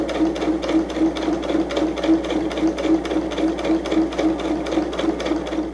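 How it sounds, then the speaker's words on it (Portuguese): A sewing machine with a wide 4.0 stitch length sews through several layers of fabric, producing a rapid, steady mechanical chatter at close range over an even motor hum, running without pause. "Terminei de fazer a minha costura."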